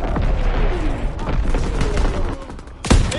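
Gunfire and booms in a sniper video game, with scattered shots and impacts over battlefield noise, game voices speaking, and a sharp loud blast near the end.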